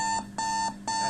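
Alarm clock tone from a Windows 7 alarm app, a loud electronic beep repeating in a steady rhythm of roughly three pulses per second, with no voices.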